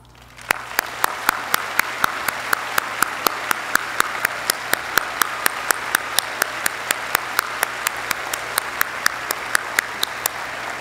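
A graduation audience applauds members headed into the armed forces and veterans, a steady crowd of clapping layered with many sharp, evenly spaced individual claps standing out above the wash throughout.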